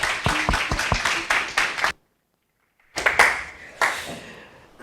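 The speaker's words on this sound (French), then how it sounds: "commencer par l'applaudir" An audience at a tech talk claps for the incoming speaker: a quick run of distinct, fairly close handclaps, a brief gap of silence, then a few more scattered claps trailing off.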